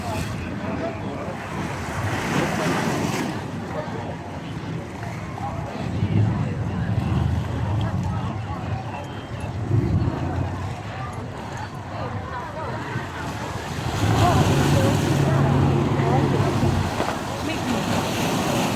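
Strong sea waves and gusting wind at Pattaya in rough weather, with boats kept in harbour: a steady wash of surf and wind roar, swelling louder near the end, with speech mixed in.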